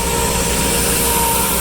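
An old John Deere Johnny Popper tractor runs steadily while pulling a seeder, producing a loud, continuous low engine rumble with a rhythmic throb and an even drone that holds throughout.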